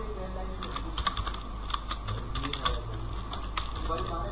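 Typing code on a computer keyboard during a Java programming lesson, with a steady run of close, crisp key clicks in irregular bursts and faint background hum throughout.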